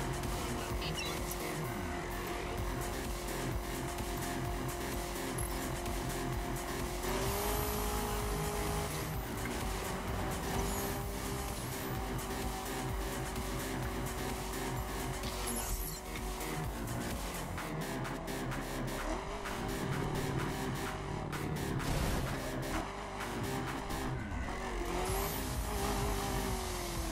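Racing-game car from The Crew, cruising at night through Miami at high speed, engine droning steadily with gear-shift swells and occasional tire squeal, loud and continuous throughout.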